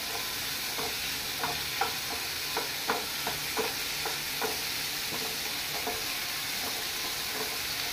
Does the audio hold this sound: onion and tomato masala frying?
yes